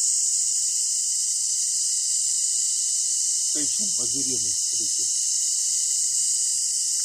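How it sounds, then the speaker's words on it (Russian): Steady, unbroken high-pitched cicada drone in the jungle near Ba Ho Waterfall fills the background throughout, with a brief burst of speech partway through. "Странный звук. Это цикады"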